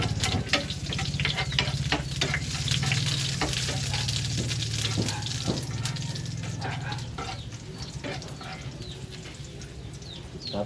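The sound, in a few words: garlic frying in a pan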